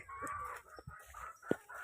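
Chickens cluck in short bursts close by, with one sharp, louder squawk near the end over a low barnyard hum.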